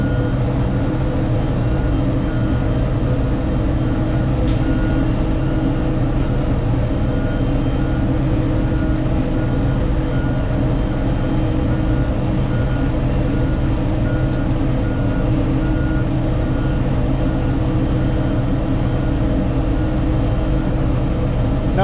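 A heavy single-operator vehicle reversing, its engine giving a steady, loud, close rumble and drone throughout, with no clear beeping or voices.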